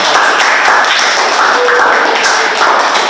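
A young audience claps loudly and continuously for student leaders at a talk-show style event, a dense, close wash of hand claps that stays level throughout with little voice beneath.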